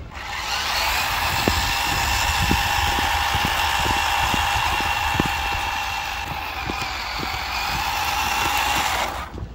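Small electric motor of a cheap LDR/C LD1201 RC Unimog truck driving on a trail in second gear, a steady high whine lasting several seconds with faint ticks and crunches from the wheels, loud and close, stopping at the end.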